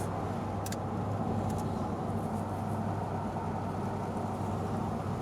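A 1993 Ford Mustang 5.0 cruising at 60 mph around 1,500 RPM, heard from inside as a steady low engine drone with road and wind rumble, constant and unbroken, no voices.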